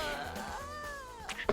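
A cat meows in the video game Bosorka: a drawn-out, tonal mew rising and falling over game background sounds, followed by a couple of soft thuds.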